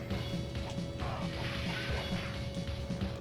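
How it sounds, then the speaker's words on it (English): Windows being smashed in the SNES game Captain America and the Avengers: a dense run of repeated crashing hits over a busy, steady game soundtrack, fairly quiet overall. "Smashing these windows."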